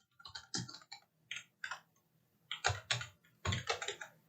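Someone types a search into a web browser on a computer keyboard in short, quiet bursts of close key clicks separated by brief pauses, with no talking.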